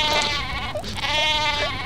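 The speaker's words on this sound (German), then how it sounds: "Oh, fantastisches Schaf." A cartoon sheep in the Worms Reloaded video game bleats in three wavering, nasal cries, loud and close, back to back over a faint game background.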